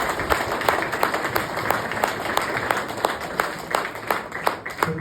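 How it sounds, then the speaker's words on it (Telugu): An audience claps on request at a stage event, a dense, steady patter of many hands lasting throughout, moderately loud and close, with a faint murmur of voices beneath. "అడగగానే క్లాప్స్ కొట్టినందుకు"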